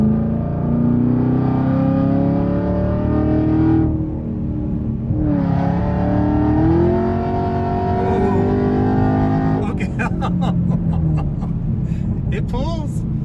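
A supercharged Camaro on a test run at a track, its engine droning loud and steady as it pulls and climbs in pitch through the gears, with a brief dip between shifts and talk over the noise.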